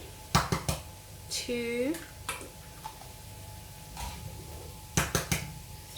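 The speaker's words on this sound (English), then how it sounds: "I'm going to crack 4 eggs in here." Eggs are cracked against a Ninja Bullet blender cup, giving short sharp knocks in quick clusters, close by, with a brief spoken word in between.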